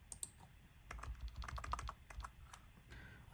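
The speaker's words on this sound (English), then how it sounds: "typing one-handed." Someone types on a computer keyboard with one hand, producing a quick, close run of light clicking keystrokes in an uneven rhythm with no voice over them.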